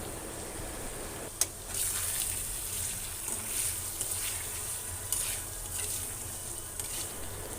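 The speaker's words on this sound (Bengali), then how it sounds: "এখানে আমি ইলিশ মাছ দিয়ে কচু শাক রান্না করছি" Taro leaves cooking with hilsa fish sizzle and fry in a pan as a utensil stirs them, with a few sharp scraping knocks against the pan over a steady, soft hiss.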